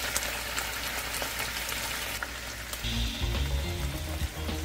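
Sliced onions and green onion fry with a pork chop steak in a hot pan, a dense crackling sizzle close up that swells and thickens as the onions hit the oil partway through.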